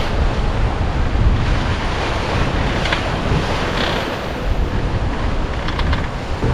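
Strong wind and breaking waves roar steadily around a sailboat heeled over in 27-knot true wind at about 8 knots on open water near Jost Van Dyke, with constant wind buffeting on the microphone and no voices.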